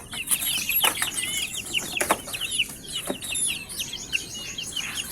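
Month-old Gilmore Hatch gamefowl chickens chirp and cluck close by in a busy, overlapping chatter, with bursts of wing flapping throughout and no talking.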